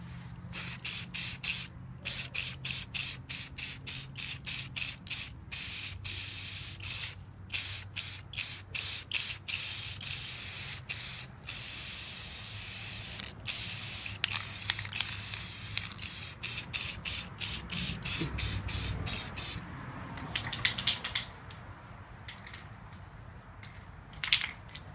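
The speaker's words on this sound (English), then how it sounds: "you can just lightly spray it" Short bursts of aerosol protective coating hiss onto fashion jewelry in rapid repeated sprays, close and steady, thinning into a few scattered puffs near the end.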